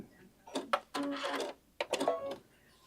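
A sewing machine back stitching the top edge of a fabric clutch bag, running in a few short, close bursts with brief pauses between them.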